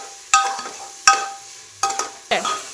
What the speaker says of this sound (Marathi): मसाला टाकायचे हलवून घ्यायचे।